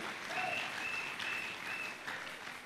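A church congregation claps together in a steady, even burst of applause that holds at a moderate level throughout, with a few faint whistles or calls above it.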